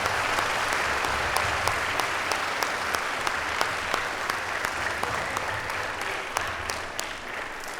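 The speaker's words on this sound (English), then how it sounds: "Round of applause for BBS" An audience applauds a visiting drama troupe at a Dharma drama performance, a steady, dense wash of many hands clapping that carries evenly for the whole stretch with a few sharper claps standing out.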